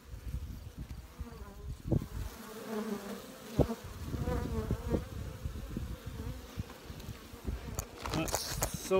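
Honeybees from colonies being fed from pails buzz close by in a steady, dense hum, broken by clattering handling knocks and a few sharp bumps near the end.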